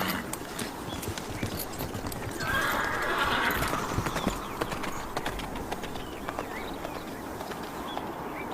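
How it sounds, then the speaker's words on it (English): A galloping horse's hooves clop in a steady rhythm while the horse lets out a drawn-out whinny partway through, close and clear. "Take my horse!"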